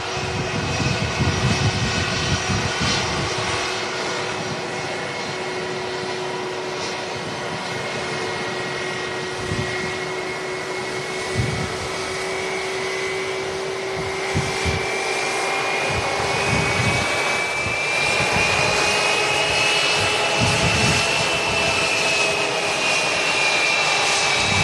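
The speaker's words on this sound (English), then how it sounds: "Lufthansa A321 on the taxi pass." Lufthansa Airbus A321 jet taxiing at Manchester Airport, a steady, loud engine whine and rumble with a rising high tone that holds throughout, continuous and near, with no talk over it.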